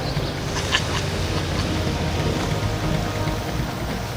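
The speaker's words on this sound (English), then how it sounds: "come to the rainforest in the rainy season, this is what you get." Heavy rainy-season rain pours down steadily in a Borneo rainforest, a dense hiss of drops pattering on leaves and surfaces, unbroken and close.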